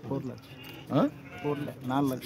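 Sheep bleating in a village, several close, wavering bleats in quick succession over a short span, with speech partly mixed in.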